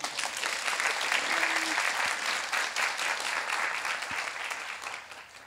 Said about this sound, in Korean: 그 화연이 친구분 한번 일어나서 박수 한 번만 좀 쳐주십시오